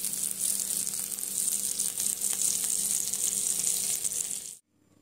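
Bombay duck (bombil) fish fry crisply on a hot tawa, a close, steady sizzling hiss that cuts off abruptly just before the end.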